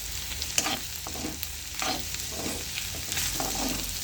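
Chopped ivy gourd fries in a pan with turmeric, a continuous sizzle punctuated by regular scraping strokes of a spoon stirring, close and clear, with no talking.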